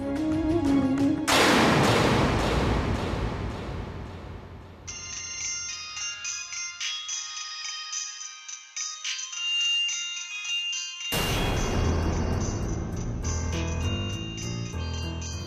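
A melodic phone ringtone plays loudly and clearly, a bright electronic tune that pauses briefly and then starts over, with no one talking.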